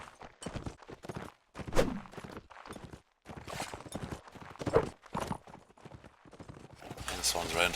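Horse hooves clip-clop during a competitive multiplayer video game match, a few scattered hoof beats mixed under near-constant excited commentary and game effects.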